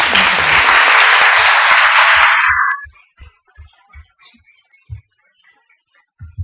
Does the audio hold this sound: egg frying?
no